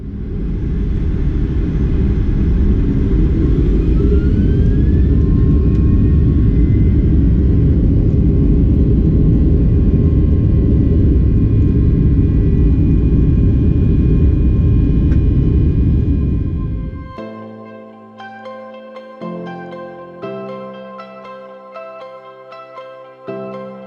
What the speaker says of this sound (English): Enjoy our favorite part of flying, the takeoff